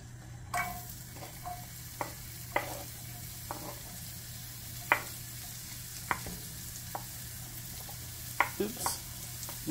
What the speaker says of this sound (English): We're going to saute the onions to begin with